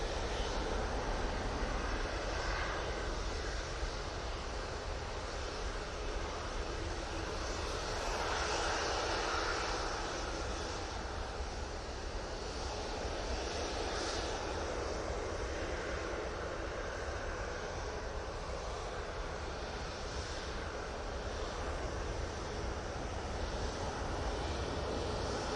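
A Ryanair jet airliner at Manchester Airport roars steadily and loudly, a broad continuous engine rumble holding for the whole stretch with a slight swell near the middle and no talk over it.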